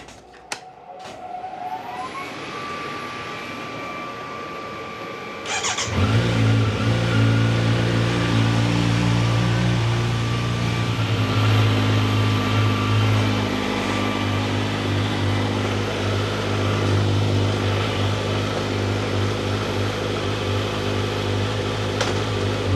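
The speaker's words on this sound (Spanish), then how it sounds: "voy a arrancar la moto, voy a calentarla un poquito" A 2024 Kawasaki Z900 motorcycle starts on a dynamometer after a short whine, then its engine settles into a loud, steady idle and warms up, with a brief rise in pitch.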